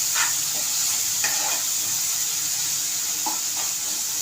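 Tomatoes sautéing in a pan for an egg tawa masala, a steady close sizzle under a few scraping stirs of the spatula, with no talking.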